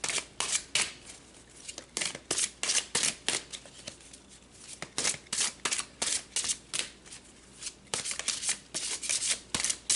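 Tarot cards are shuffled by hand in a quiet room, a steady run of crisp riffling bursts repeating throughout, close and clear with no talking.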